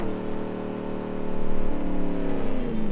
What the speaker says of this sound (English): Get some rev.